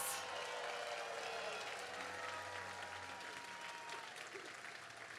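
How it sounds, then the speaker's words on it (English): Outdoor crowd clapping for organizers at a unity march in San Francisco, continuous applause with faint cheering mixed in, fairly distant and gradually tapering. "Please give them applause."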